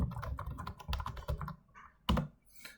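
Numbers tapped out on a computer keyboard while working in a spreadsheet: a quick run of crisp, close keystrokes in irregular rhythm, pausing briefly before one sharp final key press and a faint trailing rustle.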